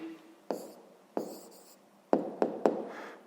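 A hand writing an answer for a fifth-grade maths exercise: close, quiet pen taps and scratches, a few spaced strokes followed by a quicker cluster of three near the end.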